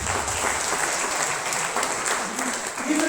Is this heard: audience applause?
yes